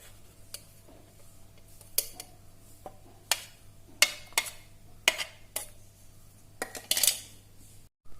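Blended onion pressed through a strainer into a bowl, heard as a series of sharp metallic taps and scrapes of a spoon against the strainer and bowl, irregular and close.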